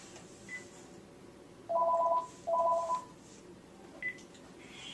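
Telephone ringing in a quiet room: two electronic tone bursts, each under a second, with faint background noise and a few small clicks.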